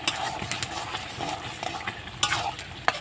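Spices being stirred into a bottle gourd curry in a pan, with a steady soft sizzle and scraping stir strokes, several sharper clinks of the spoon against the pan.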